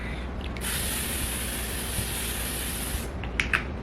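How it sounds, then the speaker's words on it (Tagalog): Makeup setting spray misted from a pump bottle, one long continuous close hiss lasting about two and a half seconds, followed by a couple of faint clicks. "I'm also gonna seal everything off with this setting spray"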